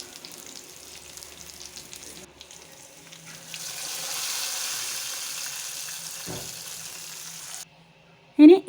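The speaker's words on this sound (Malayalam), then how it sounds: "ഉലുവയും കടുകും ചെറിയുള്ളി വറ്റൽമുളകും കറിവേപ്പിലയൊക്കെ കൂടെ നന്നായി മൂപ്പിച്ച് നമ്മുടെ പച്ചടിയിലേക്ക് അങ്ങ് ഒഴിച്ചു കൊടുക്കുന്നുണ്ട്" A hot tempering of fenugreek, mustard seeds, shallots, dried red chilli and curry leaves sizzles as it is poured into mango pachadi, swelling to a louder hiss midway before fading, with a short utensil clank at the end.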